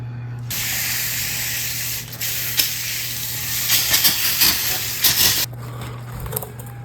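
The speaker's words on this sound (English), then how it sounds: "let's rinse her off" Water spray hisses loudly and steadily against 2002 Honda CR250 dirt bike parts being rinsed clean, a broad close rush with a few bursts and dips near the end and a low hum underneath.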